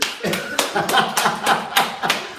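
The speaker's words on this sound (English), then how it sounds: "You want to clap for me?" Steady, rhythmic clapping from an audience at an innovation and invention talk, with each clap crisp and evenly spaced, keeping up a brisk beat throughout.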